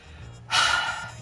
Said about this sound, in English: I shouldn't be panting.